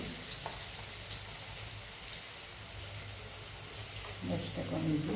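Sliced bitter gourd frying in a pan, a soft steady sizzle and crackle with faint rain-like spatter, growing a little louder toward the end.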